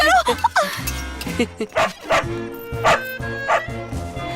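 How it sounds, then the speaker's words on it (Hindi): A dog barks and yips repeatedly at close range in quick, uneven bursts, with some whimpering tones mixed in among the barks. "कुत्ता"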